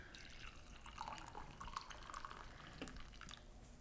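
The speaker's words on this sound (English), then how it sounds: "Then I add the water." Water trickling and dripping into a cup holding lemon juice, a steady close pour with small splashy drips throughout and no talking.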